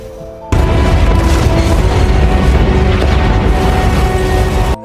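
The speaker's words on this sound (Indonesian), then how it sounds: "sebuah ledakan besar pun terjadi" A big explosion in a film erupts suddenly after a brief quieter moment, followed by a loud, sustained roaring rumble with debris-like crackle that holds to the end.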